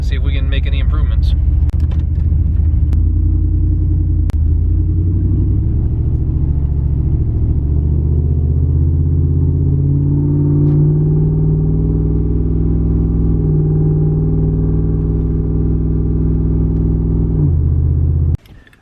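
Supercharged street truck running on 9 pounds of boost, heard from inside the cab: a loud, steady low engine drone with rising harmonic tones as it cruises and pulls along the road, before cutting off at the end.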